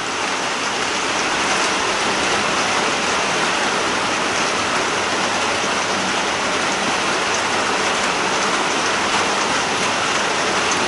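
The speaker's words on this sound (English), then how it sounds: "it's raining" Steady, heavy rain falls continuously on a farm, pattering on a shed roof and the surrounding ground with an even hiss and no break.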